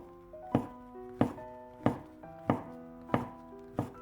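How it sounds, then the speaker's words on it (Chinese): A kitchen knife cuts washed shiitake mushrooms into thick slices on a cutting board, making six evenly spaced, crisp thunks at close range with quiet pauses between them. "先给它切成厚片"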